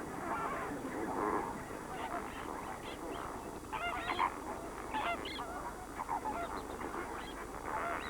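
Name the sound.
flamingos calling at Lake Nakuru, Kenya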